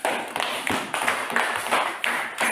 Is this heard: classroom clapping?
yes